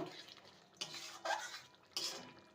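A utensil stirs garam masala powder into potatoes cooking in a pan, making a few quiet, separate scraping strokes against the metal.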